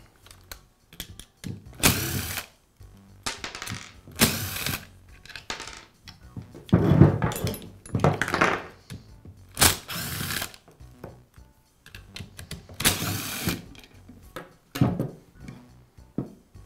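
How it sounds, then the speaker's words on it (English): Someone removes the rear housing from a DeWALT drill during a carbon brush repair, making close, repeated bursts of ratcheting clicks and plastic scraping, separated by short pauses, with no talk. "I'll begin by removing the rear housing from the drill."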